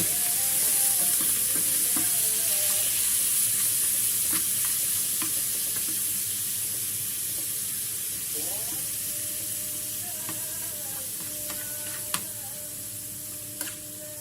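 Minced meat filling for a phyllo pie fries in a spoonful of ghee in a pan, a steady broadband sizzle with scattered light clicks and faint tonal sounds over the top.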